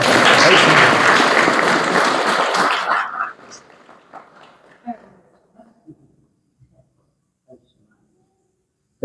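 An audience at a book-reading gathering breaks into dense, loud applause for about three seconds. It then fades quickly to a few scattered claps, coughs and quiet murmurs.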